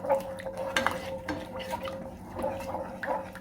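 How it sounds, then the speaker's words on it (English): Meatballs are stirred through guava jam sauce with sugar in a pan over low heat, giving soft, repeated utensil scrapes and clinks against the pan under a low, steady background hum. "Gonna mix this around to see what color I'll be getting here."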